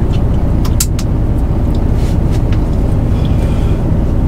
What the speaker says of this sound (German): Ich fahre jetzt runter nach Dudenhofen bei Speyer